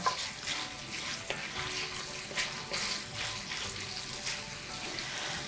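Pork sausage renders its fat in a hot pan with a soft, continuous sizzle and crackle, close but fairly quiet, with a few light scrapes or taps mixed in and no talking.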